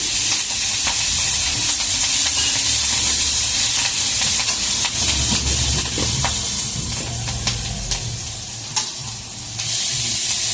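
Green chillies and chopped tomatoes sizzle loudly in a pan for a vegetarian soybean curry, a steady hiss broken by repeated scraping stirs and crackles, with no talk throughout.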